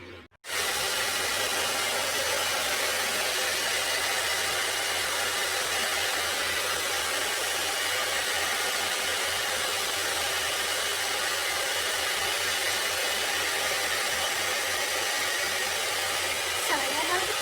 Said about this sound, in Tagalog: Dito na tayo sa ating pag-blow dry ng buhok.